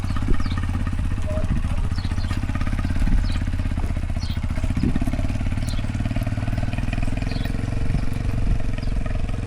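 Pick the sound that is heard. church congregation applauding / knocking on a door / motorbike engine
motorbike engine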